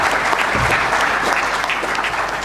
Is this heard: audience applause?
yes